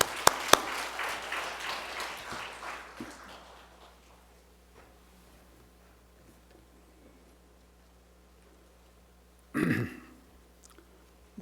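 Applause from a church congregation at a Sunday worship service, loudest at the start and fading over about four seconds into a quiet room, followed by a short burst of other noise near the end.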